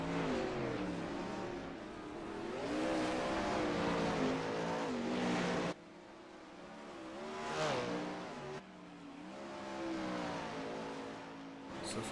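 A 410 sprint car from the World of Outlaws series roars through a qualifying lap at Lanier, its engine note rising and falling as it clips the wall on the back straight, with a commentator talking over it.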